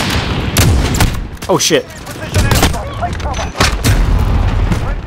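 Desert Eagle pistol gunfire in a first-person shooter game, several loud, sharp shots and booms in quick irregular bursts mixed with other gunfire, with someone talking over them.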